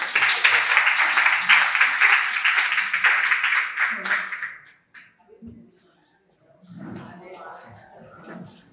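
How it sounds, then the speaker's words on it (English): A round of applause from attendees at a women's global conversation forum in Amman, loud and dense for about four seconds, then fading into scattered claps, shuffling and quiet murmurs. "we should all probably give ourselves a round of applause"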